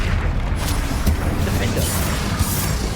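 Spell blasts in Hogwarts Legacy thump and boom repeatedly through a constant layer of combat rumble, with a voice speaking throughout.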